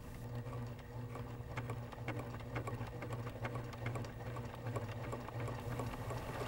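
A Pfaff sewing machine, one of the 2014, 2022 or 2024 models, runs steadily while stitching a satin stitch column, giving a continuous, even whirring hum with fine rapid needle ticks throughout.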